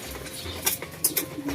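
Racing pigeons coo softly in a loft while pecking at mixed seeds, with low murmuring coos and a few brighter bursts of wing or feeding noise close by.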